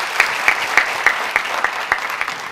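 An audience at the UCB Public Parliament 2017 debate competition claps loudly, with sharp, evenly spaced beats about three or four per second riding over a continuous bed of applause.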